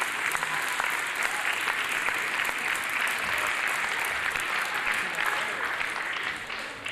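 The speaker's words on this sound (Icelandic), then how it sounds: "við viljum klappa fyrir þeim líka hérna" Sustained applause from a crowd at the Tónkvíslin 2009 contest as the presenters come on stage: many hands clapping in a thick, even roar that stays loud throughout, easing off slightly at the very end.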